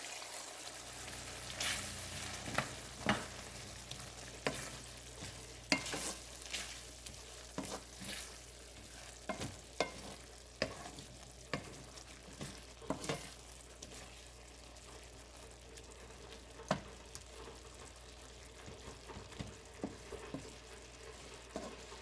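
Steady sizzling and bubbling of prawns simmering in coconut milk in a pan, with occasional sharp clinks and stirring knocks throughout, close up.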